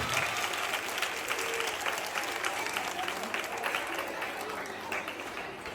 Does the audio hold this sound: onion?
no